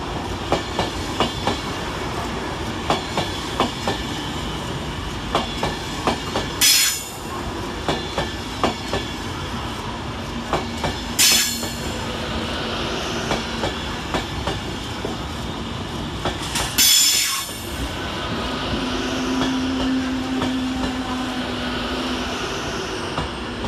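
An Avanti West Coast Class 390 Pendolino arriving at London Euston from Manchester Piccadilly, a steady rolling rumble with clickety-clack wheel beats over rail joints, a few sharp bangs and a faint brake squeal as it slows.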